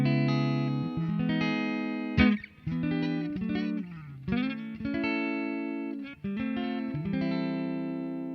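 Distorted electric guitar plays chords and sustained notes through an amp simulator plugin, loud and close, with short gaps between phrases, no voices.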